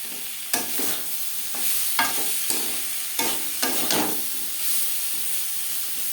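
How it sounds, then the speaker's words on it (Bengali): Mixed vegetables frying with spices in a pan for a vegetable dal, a steady close sizzle broken by repeated scraping stirs of a spoon at irregular intervals, with no talk. "ভাজা হয়ে গেছে"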